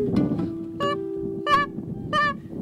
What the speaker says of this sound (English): a sneaky Canada goose approached the spread